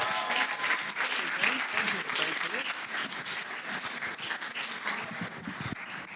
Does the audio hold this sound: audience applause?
yes